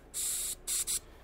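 Three hissing bursts of carburetor cleaner aerosol spray, one long followed by two shorter ones, close and loud with nothing else around them.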